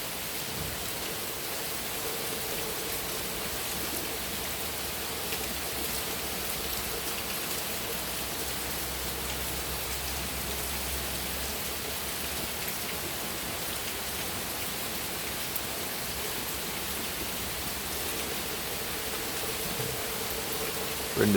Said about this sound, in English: It's raining pretty good out too.